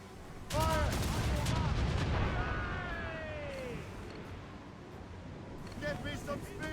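Ship cannon fire in the naval combat of the Assassin's Creed Rogue video game: a loud, close boom opens with a rolling rumble that slowly fades, while shouting voices carry over it.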